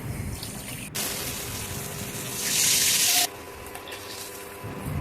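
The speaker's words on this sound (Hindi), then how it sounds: "अच्छे से इसको घोलेंगे और पानी डाल देंगे।" Water pours into a yogurt and gram flour batter in a bowl for kadhi, a steady close rush that swells louder for a couple of seconds before cutting off, with no talking.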